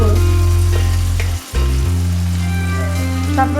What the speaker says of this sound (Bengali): ফার্স্ট অ্যাড করব ধনে জিরে গুঁড়ো